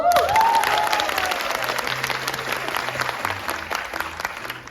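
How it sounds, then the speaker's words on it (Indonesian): Audience applause at a modern Balinese theatre performance, a steady wash of clapping that starts strong and gradually eases, with a faint tone sounding near the start. "Tepuk tangannya dong."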